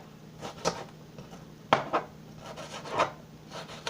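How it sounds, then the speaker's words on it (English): Knife chopping organic peppers on a cutting board in a home kitchen: a few separate, fairly close knocks and scrapes, loud against a quiet background with no voices. "so I'm only going to chop like a little bit of this."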